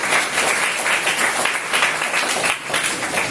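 Congregation clapping during a Hindi church sermon, a steady dense patter of many hands filling the room at an even level throughout, with no clear pauses.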